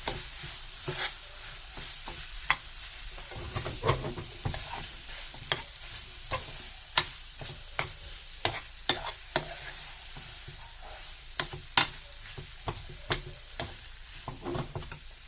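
Mashed potato sandwich filling is stirred into spiced masala in a pan for Sindhi crispy aloo sandwiches, with repeated scraping and tapping of a spoon against the pan over a steady low sizzle, close and fairly quiet.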